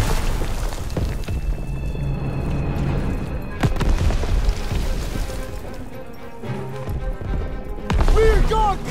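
A deep boom from a grenade explosion in the Call of Duty WW2 D-Day landing, heavy and rumbling against a noisy battlefield bed of shouting voices and scattered impacts.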